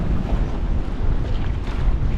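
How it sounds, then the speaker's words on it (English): Waves break and wash against a harbour wall in strong winter wind and heavy swell, a loud, continuous rushing roar dominated by deep low rumble and wind buffeting, with no voices. "And the waves are breaking up over this wall."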